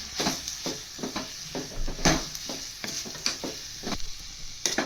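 Spice powder, grated coconut and curry leaves are stirred in a pan for gooseberry masala chitranna, soft frying sizzle broken by repeated scraping strokes of the spoon, fairly quiet and close.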